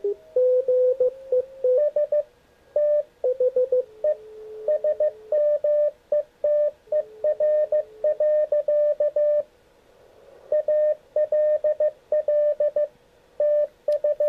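Morse code signals received as image ghosts on an X108G radio transceiver beep out as loud, clean keyed tones in rapid dots and dashes, with a fainter second tone sometimes heard alongside and no talking.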